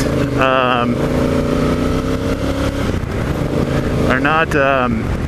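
Honda Africa Twin motorcycle ridden offroad in second gear at about 30 mph, its engine droning steadily and close with two brief rising revs, near the start and again near the end.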